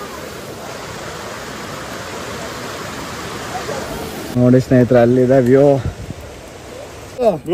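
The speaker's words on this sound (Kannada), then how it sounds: "ಇದು ನೇತ್ರಾವತಿ ನದಿ ಹರಿತಾ ಇರೋದು" Nethravathi river flowing on a mountain trek, a steady broad rushing of water throughout, with someone talking over it toward the end.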